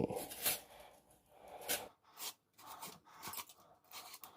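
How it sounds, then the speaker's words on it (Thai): Scraping the white flesh out of a halved mountain gourd, giving close, quiet rasping strokes in an irregular rhythm with brief pauses between scrapes. "ขูด ขูดเอาเนื้อขาวๆครับนี่"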